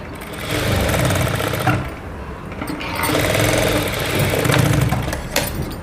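Sewing machine stitching both side seams of a garment, a steady mechanical whirring run that pauses briefly near two seconds and again near three before resuming, close and fairly loud with no talk.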